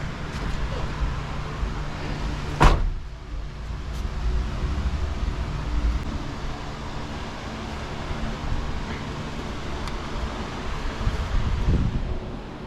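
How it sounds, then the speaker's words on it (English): A car door slammed shut once, a single sharp, loud thump close by, set against a constant low rushing background hum. "So I'm gonna go ahead and close the door."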